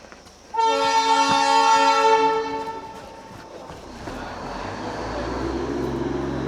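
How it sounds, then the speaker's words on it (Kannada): Darjeeling toy train sounding a loud, sustained multi-tone horn blast for about two seconds as it arrives, followed by low rolling rumble of the train approaching on the hill railway track. "ಈಗ ಟ್ರೈನ್ ಬರೋ ಟೈಮ್ ಆಯಿತು"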